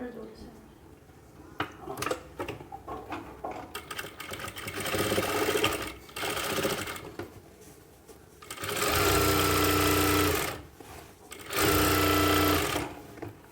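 A sewing machine stitches palazzo fabric in two long loud humming runs near the end, with shorter bursts and handling clatter earlier and someone speaking over parts of it.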